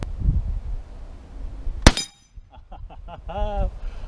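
A 7.7 Japanese rifle round fires as one loud, sharp crack, followed a moment later by a faint metallic ring as it strikes a distant steel target. Brief clinking and handling noises come after.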